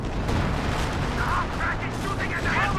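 Artillery counter-barrage fire in Company of Heroes 2, a continuous low rumbling of distant shelling with muffled thuds throughout, under faint battle noise.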